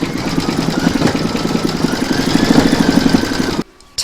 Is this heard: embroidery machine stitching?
yes